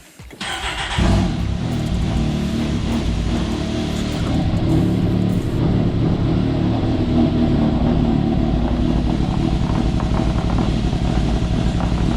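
A 2021 Can-Am Maverick X3 side-by-side engine cranks briefly and catches, then settles into a loud, steady close-up idle that runs on without pause.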